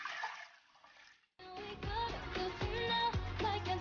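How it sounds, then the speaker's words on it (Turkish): Water is poured into a colourful layered jelly cake mixture, first a faint trickle and then, after a brief pause, a nearer, louder splashing pour into the bowl. "Suyumuzu koyuyoruz."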